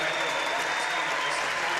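A crowd at a Hope vs. Calvin NCAA Division III women's basketball game gives a dense, steady ovation for the coach as the bench is cleared, with a commentator's voice running over the applause.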